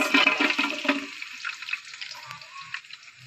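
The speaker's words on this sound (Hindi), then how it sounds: "तो इसमें मैं डालने लगी हूँ प्याज।" Chopped onions hit hot oil in a home kitchen pan, a loud, hissing sizzle bursting up at once and then settling into a quieter, steady crackle.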